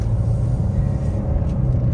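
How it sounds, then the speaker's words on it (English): A 2012 Mercedes C220 CDI BlueEfficiency estate with automatic gearbox drives on an open road, giving a steady low engine and road rumble from inside the cabin, continuous and fairly loud with no talking. "Just giving it a little run of the road just to see how it drives."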